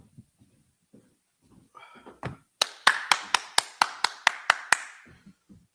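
A group claps hands in about ten sharp, evenly spaced unison claps, loud and close, preceded by scattered taps and low murmuring voices.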